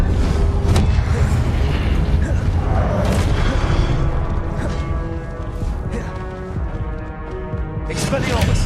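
Heavy booming blasts from a fire-blasting spell in the video game Hogwarts Legacy, loud and dense, with crashing debris and mechanical rumble packed tightly together over a full soundscape.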